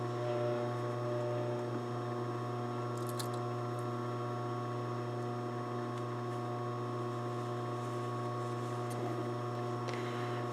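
An idling sewing machine gives off a steady low electrical hum, constant and faint, with a few tiny clicks on top and no talking.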